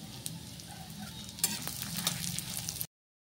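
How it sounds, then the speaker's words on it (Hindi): Almonds fry in homemade ghee in a kadai over low heat, giving an even, close bubbling sizzle with a few light ticks before the sound cuts off abruptly. "इसमें हम बादाम को डाल के फ्राई करेंगे"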